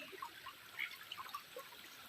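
Faint water trickles and drips through a small, shrunken stream channel beside a rubber plantation, a soft, steady bubbling with no talking.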